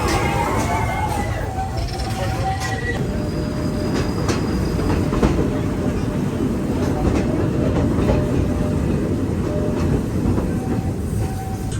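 Big Thunder Mountain runaway mine train at Disney's Magic Kingdom rumbling steadily along its rails, a continuous loud low roar with faint squeals and clatter, and people's voices mixed in throughout.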